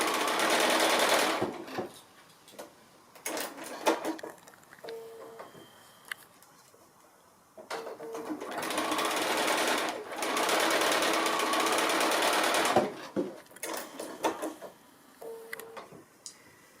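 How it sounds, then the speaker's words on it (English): A sewing machine runs a short holding stitch along fabric to fix small loops in place, close and loud in several bursts of rapid stitching, with quiet pauses between them. "these I just need to stitch these on, just a little holding stitch, so maybe only 1/8 of an inch in, just to hold those little loops in place"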